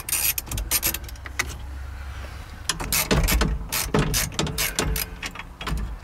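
Ratchet wrench undoing the steering column floor-plate nut on a 1992 Miata, a run of sharp close clicks and metallic ticks in quick bursts, with brief pauses and rustling between strokes.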